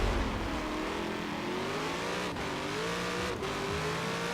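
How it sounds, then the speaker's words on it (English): Chevrolet Corvette Z06 with an LS V8 engine in Forza Horizon 4, a steady, moderately loud engine drone rising through the revs with two brief dips at gear changes, no talking. "let's see how this LS engine works here"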